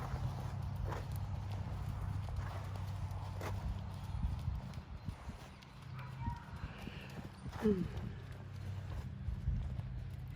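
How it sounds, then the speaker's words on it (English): A horse canters during dressage schooling, its hoofbeats rolling steadily at moderate distance over a low background rumble, with faint voices now and then. "just going to do some canter work with Flash now"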